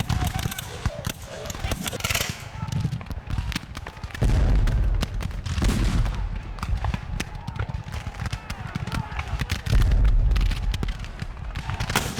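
A Civil War battle reenactment brings a crackling volley of musket fire, in bursts of irregular loud pops with heavy low rumble, mixed with shouting voices throughout.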